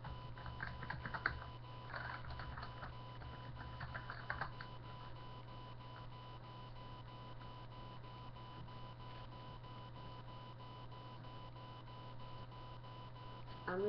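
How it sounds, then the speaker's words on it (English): A computer keyboard is struck a few times in quick, light clicks early on, then fades to a faint, steady electronic hum with little activity; the sound is quiet and close. "I'm not typing anything, I'm just hitting my keyboard."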